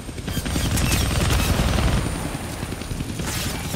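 Rapid gunfire in the Deadpool video game on Xbox One, a loud dense burst of automatic shots and booms that swells early and tapers toward the end.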